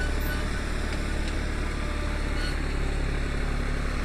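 A New Holland TT4.65 tractor engine runs steadily and loud in an open field, a constant low diesel drone holding through the whole stretch with no pauses.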